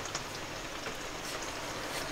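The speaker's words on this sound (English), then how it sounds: "it's now chucking it down with rain again" Heavy rain pours down outdoors during a bouldering trip in Snowdonia, a dense, constant hiss of drops with no pauses, fairly close and steady, with no voices.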